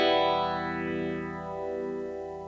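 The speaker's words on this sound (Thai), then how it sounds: "ตัวนี้จะเป็นมาจาก MXR Phaser 90นะครับ" A sustained electric guitar chord through an MXR Phaser 90 style phaser, its tone sweeping slowly up and down in a whooshing swirl as it fades.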